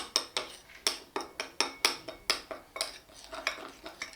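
A utensil stirs hand-feeding formula mixed with boiled, cooled water in a dish for a cockatiel chick. It scrapes and clinks in a quick steady rhythm of about a dozen close, bright strokes, with no talk.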